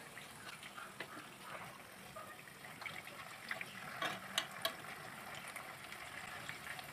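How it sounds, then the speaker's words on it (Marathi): A potato and wheat flour breakfast snack frying in oil in a pan, a soft steady bubbling sizzle with faint scrapes and taps as it is flipped with a fork. "आता आपण याला खालून सुद्धा छान गोल्डन फ्राय करून घेऊया म्हणजे एकदम क्रिस्पी लागल"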